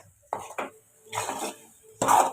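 A utensil stirs Maggi masala egg bhurji in a pan, a few close, separate scraping and clinking strokes with short pauses between them.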